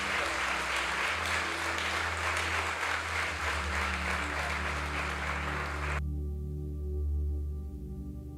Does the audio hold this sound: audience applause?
yes